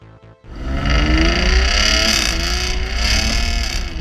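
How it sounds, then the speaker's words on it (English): A Jaguar F-Type Coupe British sports car engine revs hard through its center-mounted twin exhausts, surging from a quiet start into a loud, sustained roar with rising and falling pitch. "is that not one of the most epic sounding cars you have ever heard? And that's courtesy of the center-mounted twin exhausts"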